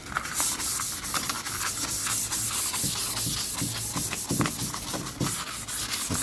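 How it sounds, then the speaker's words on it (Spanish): Dry sandpaper rubs rapidly back and forth over a car hood in quick rhythmic strokes, close and steady, with a hissing texture. "Ahora voy a lijar en seco nomás para sacarle las perezas."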